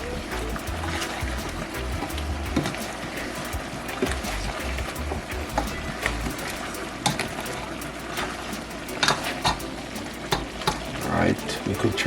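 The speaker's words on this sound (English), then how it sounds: "So stirring it, moving them around will give each piece that chance." Chicken pieces for Jamaican brown stew chicken browning in a pot, stirred and moved around with a spoon: steady frying sizzle with scraping stir strokes and occasional clacks, close and continuous throughout.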